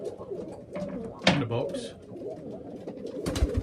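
Stock pigeons coo in a loft, low throaty calls running through the clip with a brief clatter near the middle, while someone talks over them.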